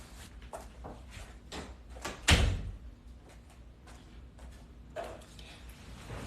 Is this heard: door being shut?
yes